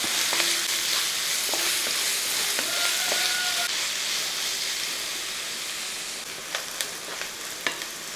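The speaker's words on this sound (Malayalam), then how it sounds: "ഇപ്പം നമ്മുടെ സവോളയൊക്കെ ഒന്ന് വഴറ്റി വരുന്നുണ്ട്." Chopped onions sauté in a hot pan for a cabbage masala curry, a steady close sizzle with occasional stirring scrapes and clinks throughout, no talking.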